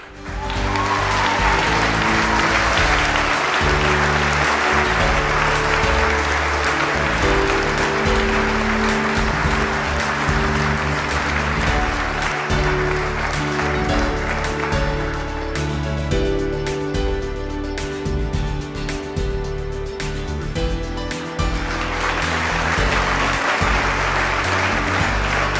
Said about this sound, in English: Please applaud Mike Wood.